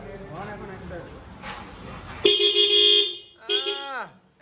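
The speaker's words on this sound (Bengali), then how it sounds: "হর্ন একদম লাগানো ক্লিয়ার এখন সাউন্ডটা শোনাচ্ছি দেখেন" A DENSO horn fitted to a motorbike sounds a loud, sustained blast, then a second shorter honk whose pitch sags at the end. Talk comes before the horn.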